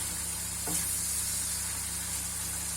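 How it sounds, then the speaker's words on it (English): Shrimp sauté in a hot pan, giving a steady close sizzling hiss with no talking. "Let it saute a little bit longer."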